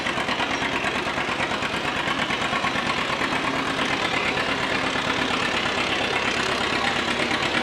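A John Deere 70 White Front antique tractor runs at an Old Threshers tractor pull, its engine a steady, rough, thumping drone that holds even throughout with no voices.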